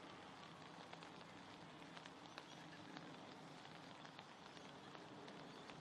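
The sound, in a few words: rain falling on football field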